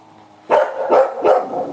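A dog barks three times in quick succession, loud and close, each bark sharp with a short pause between.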